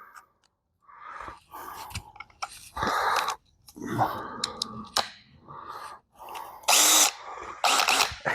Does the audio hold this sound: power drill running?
yes